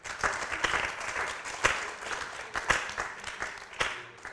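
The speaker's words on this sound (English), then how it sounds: "Let's clap for ourselves." A seminar audience claps in a French education department session, an uneven patter of individual hand claps with distinct sharp strikes standing out, moderately close and lasting several seconds.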